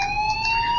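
A loud, continuous electronic alarm blares in Life is Strange, a steady siren-like tone sounding alone and close.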